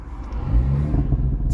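A tuned Audi A3 Stage 2 Plus holds its engine on launch control, a loud, steady revving drone with a slight lift in pitch across a brief stretch, close to the car.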